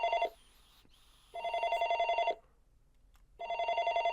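Telephone ringing in the video game Aoi Tori: a steady electronic double-trill ring comes in three loud bursts separated by short silences, close and clear with no other sound.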